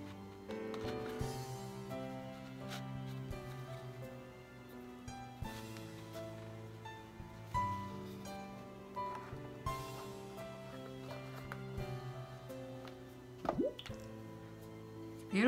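Acrylic pouring paint drips and plops from an upturned cup onto a canvas, soft wet squishes and drips scattered over a quiet stretch, with faint tonal music beneath.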